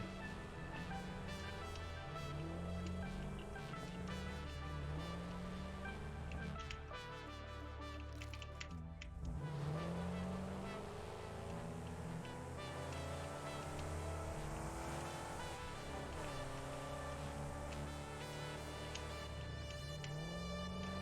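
A vehicle driving off-road in the game Satisfactory, a continuous engine drone with rising and falling pitch as it revs and shifts, steady and moderately loud throughout.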